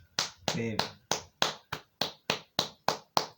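About a dozen crisp, evenly spaced handclaps ring out close and loud in a steady rhythm, with a brief voice heard near the start.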